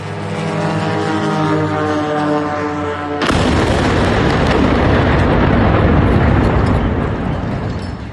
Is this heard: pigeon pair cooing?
no